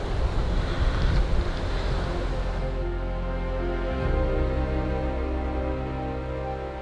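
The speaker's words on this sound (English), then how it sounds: "but really windy" Strong wind buffets an outdoor hunting stand, a loud continuous roaring gust that eases after a few seconds into a steadier low rush.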